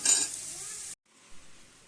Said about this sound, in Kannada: ಬನ್ನಿ ಅನ್ನ ಮಿಕ್ಸ್ ಮಾಡೋಣ